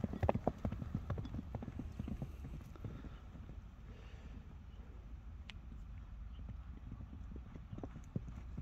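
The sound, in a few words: horse walking, hooves clip-clopping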